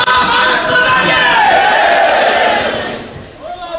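At a celebration for a newly elected legislator, a large crowd raises a loud, sustained chant of victory cries that swells and then fades near the end.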